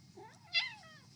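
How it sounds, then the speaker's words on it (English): A single cat's meow rises and falls near the middle, fairly close and clear, over a low steady room hum. "there's a cat coming."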